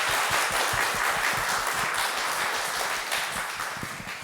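An audience at a Korean-Japanese joint retreat lecture applauds, a dense burst of clapping that slowly fades near the end.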